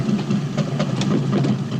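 A steady low engine drone rumbles inside a closed car, continuous and fairly loud with no change in pitch and no voices over it.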